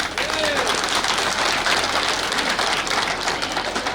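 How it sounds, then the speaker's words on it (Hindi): Guests applaud at a Buddhist wedding ceremony, a steady dense wash of clapping that fills the whole stretch at even loudness, with faint voices mixed underneath. "जोरदार तालियां होनी चाहिए।"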